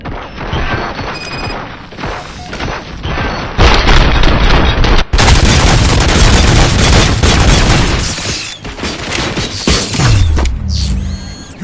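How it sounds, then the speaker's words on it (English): Dense, sustained gunfire and heavy blasts fill a RoboCop: Rogue City firefight, loud and continuous with crashing impacts and mechanical clatter, no voices over it. "Fire at will."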